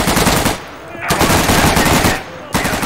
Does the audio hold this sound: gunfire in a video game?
yes